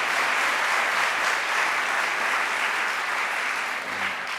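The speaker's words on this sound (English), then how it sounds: "Please give them a round of applause for the remarkable work they're doing." Sustained, dense audience applause fills a hall at the 2013 Broad Prize announcement, honouring the Uncommon Schools network; it holds at an even level and tapers slightly at the end.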